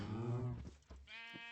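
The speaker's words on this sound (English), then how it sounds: "I'll breed a sheep." Sheep in a survival video game bleating twice, a drawn-out bleat followed by a shorter one, close and clear with no talking.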